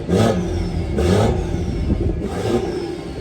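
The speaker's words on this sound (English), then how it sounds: "I will actually start the car up for you guys." A BMW M240i engine starts and revs repeatedly through an exhaust with downpipe and both resonators deleted, three surging blips of roar close by, settling to a rough idle between them.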